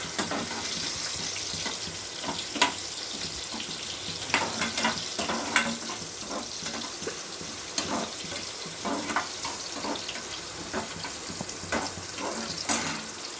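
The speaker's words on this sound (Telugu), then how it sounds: "ఒక ఆనియన్ వేసుకోవాలి. ఆయిల్ కొంచెం వేగాలి ఫ్రెండ్స్." Chopped onion sizzles steadily in hot oil for a Telangana-style fish curry, with occasional stirring clinks over the continuous frying hiss.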